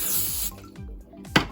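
Cooking spray misted into a casserole bowl, one steady hissing burst for about half a second, followed by light clinks and a sharp tap of the can or bowl, close and fairly loud.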